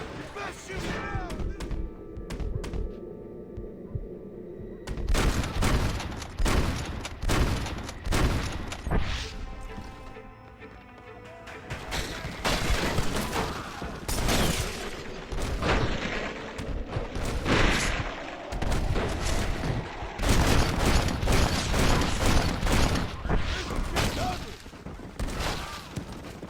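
Gunfire rattles through a Red Dead western video game shootout in repeated sharp bursts and volleys, loud and near, with voices shouting over and between the shots.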